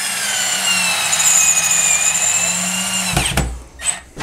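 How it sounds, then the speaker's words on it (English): A Milwaukee M12 cordless screwdriver drives a screw with a steady high-pitched motor whine lasting about three seconds, close and loud, then stops, followed by a few brief clicks and handling noises. "driving that first screw"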